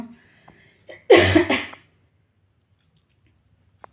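A single short, forceful cough burst, fairly close, followed by quiet and a faint click near the end.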